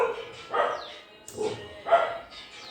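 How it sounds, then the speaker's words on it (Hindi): Dogs on an organic farm bark in a few separate sharp bursts spaced about half a second apart, fairly close and loud, with brief quiet gaps between them. "कुत्तों को भी अभी भौंकना है"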